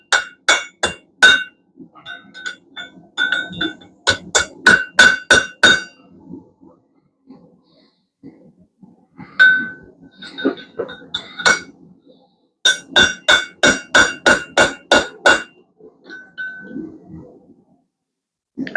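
A blacksmith hammers a hot steel S hook on an anvil in bright, ringing bursts of rapid blows separated by short pauses, loud and close, with each strike clanging sharply.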